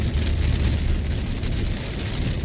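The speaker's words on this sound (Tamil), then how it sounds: "மழை எப்படி பெய்யுதுன்னு மட்டும் பாருங்களேன். சரியான மழை." Heavy rain pours steadily onto a Baleno car during a road trip near Bodi on the route to Munnar, a dense, loud, continuous roar of drops drumming on the car body with road rumble beneath and no talking.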